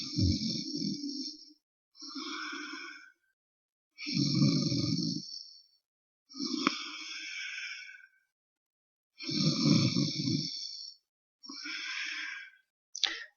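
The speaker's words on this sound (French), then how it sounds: "5 respirations Ujjayi." Slow, deep Ujjayi breathing during a yoga session, six or seven long hissing, throat-constricted breaths alternating inhale and exhale, each lasting about two seconds with silent gaps between, close and quiet.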